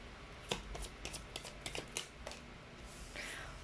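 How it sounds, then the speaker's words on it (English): A deck of cards is shuffled during a pick-a-card reading: a series of quick, crisp riffling and snapping bursts, close and fairly quiet, ending in a longer soft ruffle. "You saw me shuffle as always."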